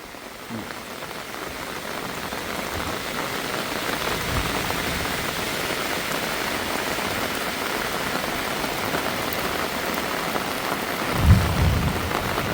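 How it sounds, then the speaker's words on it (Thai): Steady rain pours down over a rural Thai home during a thunderstorm, a dense even hiss filling the whole stretch, with a brief low rumble near the end. "ฝนตก"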